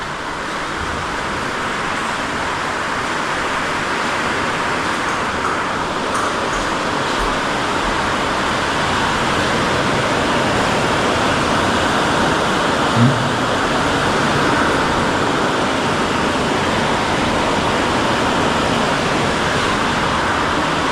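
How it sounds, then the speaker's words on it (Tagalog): Heavy rain pours down outside a third-floor building in Itogon, Benguet, amid strong wind: a dense, even roar that holds steady throughout, with no voices. "Laging umulan dito mga boss, malakas ang ulan ngayon."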